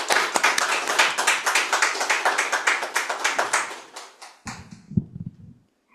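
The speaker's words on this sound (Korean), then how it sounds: "뜨거운 박수로 맞이해 주시길 바라겠습니다" An audience at an evening lecture in a Seoul meeting hall claps to welcome the speaker, giving a brisk, fairly close round of applause that lasts about four seconds and then stops abruptly, leaving faint shuffling and a soft knock.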